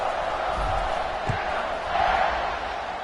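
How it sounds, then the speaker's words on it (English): A college football stadium crowd buzzes steadily ahead of a kickoff, a dense, continuous roar of many voices with a brief swell near the end, filling the whole space at even loudness. "this crowd is buzzing after that last score"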